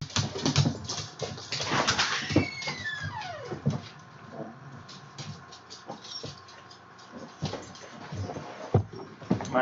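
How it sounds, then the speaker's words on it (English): A pet dog barks at the neighbors in short, irregular outbursts, fairly close and moderately loud over a busy domestic background. "I'm having to holler at my dog. It's barking at my neighbors."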